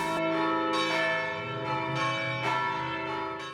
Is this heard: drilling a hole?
no